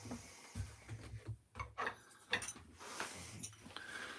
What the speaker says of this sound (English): I'm just going to quickly sharpen these couple of gouges.